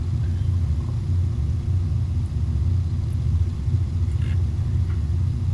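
B-17 bomber engines rumbling at takeoff in the Bomber Crew video game, a steady, dense low drone that holds evenly throughout with no letup.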